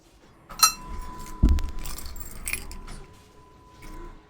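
A bunch of keys jangles and clinks close by, with a sharp rattle near the start and a heavier clatter a moment later as they are handled, then quieter metallic shuffling.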